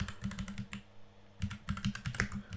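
Computer keyboard typing, close and steady, a quick run of key clicks with a brief pause midway.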